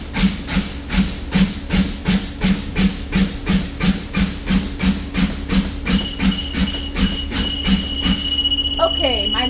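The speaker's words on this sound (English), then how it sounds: "I'm going to conduct this test by fanning my service brake and waiting for my low air warning light to turn on" A truck's air brake hisses in repeated bursts as the service brake is fanned, about sixteen evenly spaced pulses close by over a steady engine rumble, followed by a sustained warning tone near the end.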